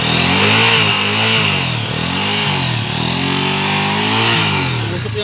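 A motorcycle engine on an overhauled bike, fitted with an open, loud exhaust, revs hard and close, with repeated rising and falling throttle blips over a steady raspy drone.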